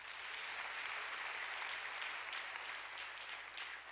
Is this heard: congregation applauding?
yes